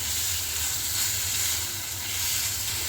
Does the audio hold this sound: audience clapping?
no